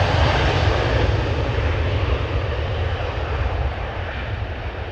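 A KLM Boeing 737-700 jet bound for Gothenburg roars steadily at Amsterdam Schiphol, its loud, broad engine rumble holding near and fading only slightly.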